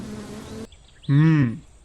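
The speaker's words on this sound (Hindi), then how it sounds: "रामलाल के मुंह पर मक्खियां भिनभिनाई जा रही थीं" A buzzing fly in a Hindi cartoon, circling the face of a man asleep under a tree in a forest: a droning hum for under a second, then a short wavering buzz that rises and falls.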